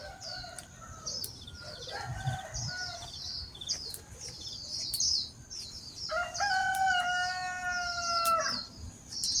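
Roosters crow in the morning, two long drawn-out calls rising and falling in the foreground, with chirping birds and scattered clucking from fowl around them.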